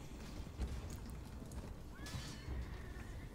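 A horse in the medieval battle game Mount and Blade gives a whinny over a dense, muffled battlefield din, faint and distant, with hoofbeats lost in the noise and a voice talking over it.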